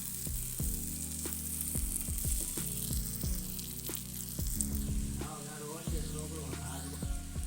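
Finely chopped onion sizzling in oil in a pan for a chicken bun filling, a faint continuous hiss punctuated by repeated sharp clicks and knocks of a spoon stirring, no one speaking.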